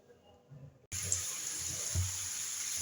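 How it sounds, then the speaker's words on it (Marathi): Spinach leaves are rinsed under a running kitchen tap, a steady rush of water beginning abruptly after a quiet moment and continuing evenly. "तर चला मी हा पालक आता स्वच्छ धुवून घेते."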